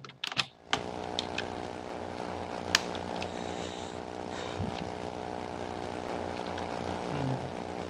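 Steady droning propeller aircraft engine in the Second Life video game, a continuous harmonic hum holding through the whole stretch with a few faint clicks and taps laid over it.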